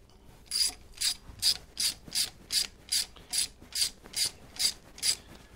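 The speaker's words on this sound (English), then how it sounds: "I'm just snugging all these up right now, and then I'm gonna go back and torque them in the same pattern." Ratchet snugging up bolts on a Harley-Davidson Sportster charging system, clicking in about a dozen evenly spaced, crisp bursts at a steady rhythm, close and clear with no talking.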